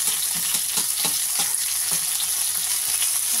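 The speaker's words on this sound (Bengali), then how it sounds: "তাহলে আমি ভিন্ডিটা একটুখানি ভেজে ভেজে নিই" Okra fries in hot oil with black cumin, giving a close, steady sizzle broken by quick scraping and tapping as it is stirred in the pan.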